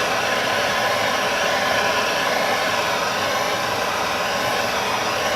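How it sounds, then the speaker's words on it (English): A torch flame heating PVC pipe for bending makes a steady, close, unbroken roaring hiss throughout. "You want to keep the flame moving the whole time."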